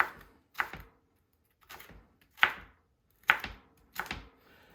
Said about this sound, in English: I just slice my pepper down lengthwise and coarse chop.